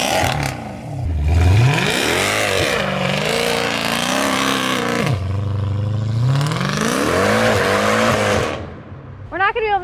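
A Mercedes C63 AMG fitted with headers and a full exhaust does a burnout, its engine revving hard in rising and falling sweeps under squealing tyres, loud and close, ending in a brief crackle.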